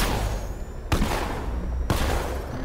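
Gunfire from a rubber-bullet cannon in the Batman Arkham Knight video game, two heavy booming shots about a second apart over a dense, noisy battle ambience.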